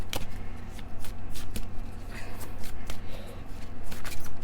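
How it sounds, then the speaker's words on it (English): Tarot cards shuffled by hand, a close, continuous papery riffle and clatter with repeated sharp snaps over several seconds, with no one speaking. "So I'm gonna just shuffle these real quick and then shuffle these real quick."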